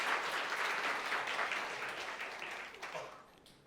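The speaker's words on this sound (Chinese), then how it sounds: "我们用热烈掌声来欢迎他，好不好？" Congregation at a Mandarin-language church service applauding to welcome a deacon, a moderate, dense clapping that gradually thins and tapers off toward the end.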